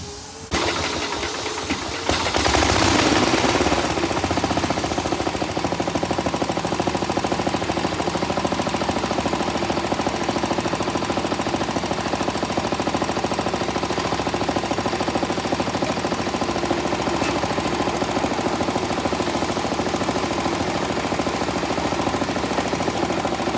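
A 54-year-old tractor engine with a new fuel tank cranks over and catches, then runs steadily with a loud, rapid, knocking chug that continues throughout without speech.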